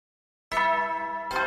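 An announcement chime in the video game Hundred Line Last Defense Academy rings out after silence as a clear, bright electronic tone, followed by a second note starting just before the end.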